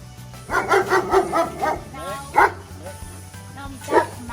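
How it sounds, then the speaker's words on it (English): An eight-month-old puppy named Max barks in a quick run of five or six close yips, then barks twice more alone after a pause, with someone speaking in between. "Now that's Max. Now Max is not really as gigantic as he looks. He's a puppy."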